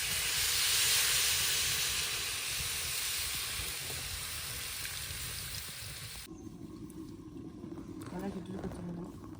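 Water poured into a hot pan of cooked-down spinach and paneer filling sets off a loud, broad steamy hiss that slowly eases, then cuts to quieter background with a voice.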